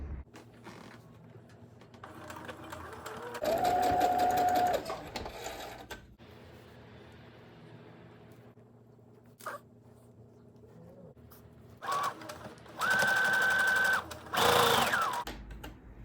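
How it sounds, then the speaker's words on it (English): A sewing machine stitches quilt pieces in a quiet room, running in short whirring bursts with mechanical creaks, pauses and small handling sounds between runs. "The worst thing when you're in a sewing groove, your bobbin running out."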